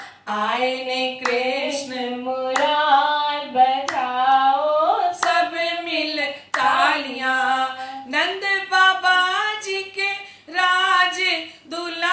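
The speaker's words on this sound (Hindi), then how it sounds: "बजाओ सब मिल तालियां" At a devotional Krishna birth celebration, a congregation claps along to a sung bhajan, the sharp periodic claps cutting through a prominent melodic singing voice that carries the tune over the beat.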